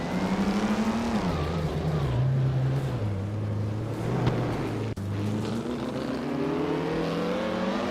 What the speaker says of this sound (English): Maya's car, a 1957 Curtiss Craft 500B, is currently in 10th place.